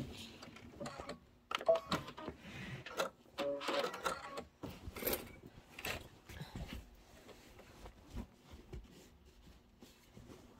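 A sewing machine runs a short locking stitch in bursts, with quiet mechanical clicks and whirs broken by pauses, faint and close, no one talking.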